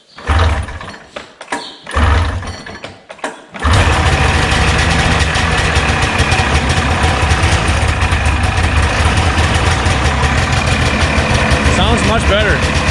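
A 1989 Jag 440cc snowmobile engine sputters through a few rough, halting attempts, then catches and settles into a loud, steady idle after a carburetor cleaning.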